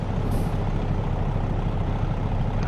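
Heavy truck engine in American Truck Simulator, a steady dense rumble with an air-brake hiss at the start, continuous and close, no talking.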